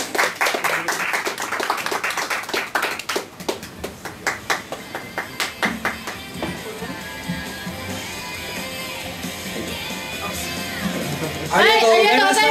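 Audience applause for a singer's live performance, a burst of dense clapping that thins into scattered claps and fades under crowd murmur, with a voice rising at the end.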